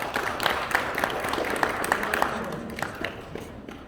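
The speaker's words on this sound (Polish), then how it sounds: "I duże brawa dla Patryka" Children and parents in a school hall clap for a new first-grade pupil at a school pledge ceremony, with steady, crisp applause and distinct sharp claps standing out, fading toward the end.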